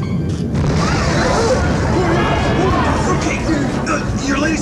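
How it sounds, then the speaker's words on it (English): An invention explodes in a comedic children's show, a sustained rumbling blast with crashing debris and busy clatter throughout, with brief voices over it. "your latest invention just exploded"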